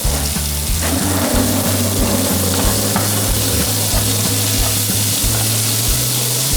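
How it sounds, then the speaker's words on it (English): Onions shallow frying in a pan for a murrel fish curry, a steady loud sizzle with a repeated low rhythmic scraping of stirring throughout. "Just shallow fry the onions."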